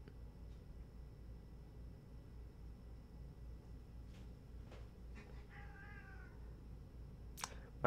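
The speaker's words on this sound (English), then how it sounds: "My cat's playing." A playing cat gives a single faint, drawn-out meow in a quiet room, set against a low steady background hiss, with a few small soft knocks and a brief sharp noise near the end.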